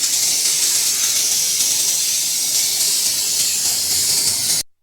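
Steady, loud spray hiss of anti-rust coating being applied to the undercarriage of a Tata Altroz, continuous and close for several seconds before cutting off abruptly.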